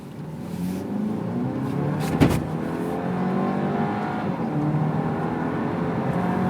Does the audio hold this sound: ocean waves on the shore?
no